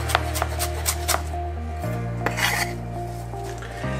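A knife runs through flat leaf parsley on a board, giving a few soft rasping cuts early on and then a duller scrape, all over a steady low kitchen hum with no talking.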